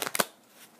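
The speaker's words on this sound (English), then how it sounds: "as soon as my hand is full, we shuffle the limbo pile into the deck" Playing cards of the Onirim card game are shuffled: three quick riffling bursts close by, then a brief fading rustle, alone without talk.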